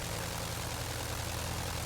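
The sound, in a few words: Curtiss JN-4 biplane propeller fan noise in flight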